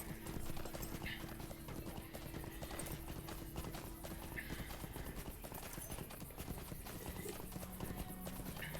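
Horse hooves clip-clop steadily in Lord of the Rings Online, a continuous loud rhythmic trotting with game ambience and occasional faint whinny-like tones underneath.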